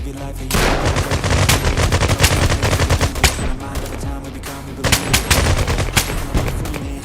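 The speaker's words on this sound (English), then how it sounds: "Let's try that pistol." Dense, loud pistol gunshots from the video game Bullet Rain crackle in quick succession throughout, layered over a thumping music track with continuous game action.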